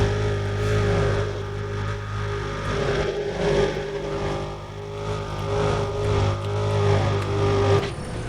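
A car races at top speed, around 295 km/h, on a highway in Need for Speed: Undercover, its steady high engine drone loud and continuous with sustained harmonic tones and no pauses.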